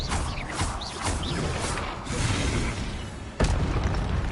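Spell blasts from the Hogwarts Legacy video game, with a dense, continuous rumble of booming magic and mechanical clatter, a sharp loud burst near the end, and no talking.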